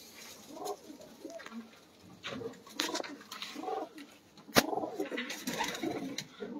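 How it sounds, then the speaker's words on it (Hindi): Released pigeons coo in soft repeated phrases close by, joined by bursts of wing flapping and one sharp clap of wings, at a pigeon breeder's loft. "दो तीन कबूतर फड़ के बहा दो"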